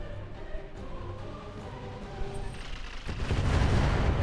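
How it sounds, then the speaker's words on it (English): Airstrike explosions in the video game RogueTech: a few dull booming blasts land in quick succession, then a heavier rumbling explosion swells near the end, loud and without talk. "oh, airstrike. Of course, here it comes."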